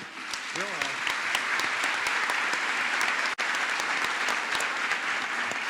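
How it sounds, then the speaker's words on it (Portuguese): Dense, sustained applause from an audience, even and continuous throughout, with a voice briefly audible near the start. "Acho que vale umas palmas para Porto Belo."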